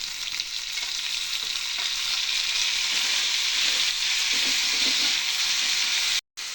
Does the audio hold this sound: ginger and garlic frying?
yes